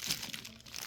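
Taped packaging around a Milwaukee M12 3.0 battery is pulled open, a short burst of close, quiet crinkling and tearing with scattered sharp crackles.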